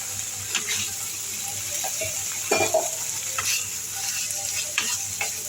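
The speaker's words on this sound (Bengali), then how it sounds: "মিক্স আপ করে দিচ্ছি আলুগুলো।" Fried potatoes stirred into a spiced yogurt curry in a pan, with a soft steady sizzle, scraping spoon strokes and a brief louder clatter midway, no talking.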